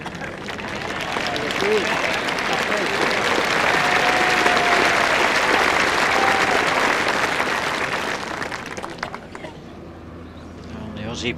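Crowd applause at the 2004 World Bowls Championships men's singles final between Glasson and Marshall. Loud, sustained clapping from a large audience holds steady for several seconds, then fades into quieter murmuring near the end.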